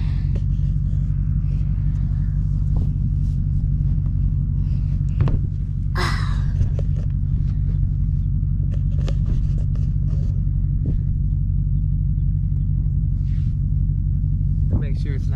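A vehicle engine rumbling steadily while pulling an abandoned Porsche out of a field, a loud constant low drone throughout with brief clanks and rustles on top.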